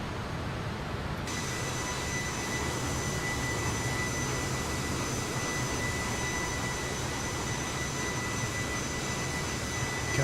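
Jet engines of the SkySim DC-9 in Microsoft Flight Simulator hum with a steady, loud whine and broad roar, unbroken throughout and with no talking.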